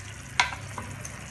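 Tomato gravy for sev tamatar sizzles in a pan as a spoon stirs it after garam masala goes in, with one sharp scrape and a soft, steady fry underneath, close and brief.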